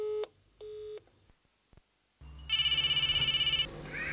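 Two short dialing tone bursts, a pause with faint clicks, then a steady pulsing ring tone over low line hum.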